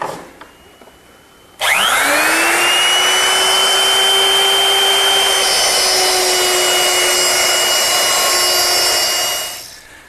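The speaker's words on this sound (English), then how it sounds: "I've set it up in my router with this guide fence, which controls the width of the cut" A handheld router with a guide fence cutting a mortise freehand for a medicine cabinet, starting abruptly with a rising whine that settles into a loud, steady high-pitched cutting roar for about eight seconds before winding down.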